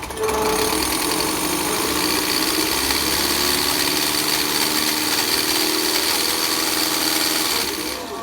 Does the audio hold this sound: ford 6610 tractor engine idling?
yes